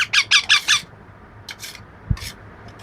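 Hungry baby parrots squawk for food during hand feeding, a quick run of four harsh calls followed by a few scattered shorter squawks and a soft thump, close by.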